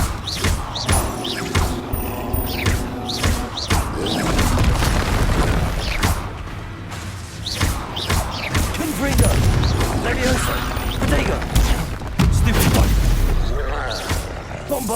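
Repeated booming spell blasts from Bombarda in Hogwarts Legacy burst through a busy combat mix, heavy thuds landing every second or two alongside other magical impacts, with a voice calling out spells over the fight.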